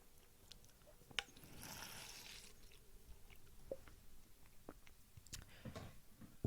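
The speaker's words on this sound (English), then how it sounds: "that was just my water bottle making noises" A water bottle creaking and crinkling faintly nearby, with scattered small clicks, squishes and a brief hissy rush of air, quiet and irregular.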